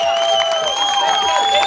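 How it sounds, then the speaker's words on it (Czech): Audience applause at an award ceremony after the T-Mobile Olympic run in Hošťálkovice, greeting the second-place finisher. A steady wash of clapping and crowd cheering carries over the full stretch, fairly loud and even. "Velký potlesk."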